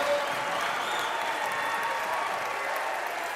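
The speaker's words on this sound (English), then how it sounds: "and listen to that crowd." A home crowd in a college men's basketball gym at Oregon Tech roars and claps during a timeout after a scoring run, a loud continuous wash of cheering and applause.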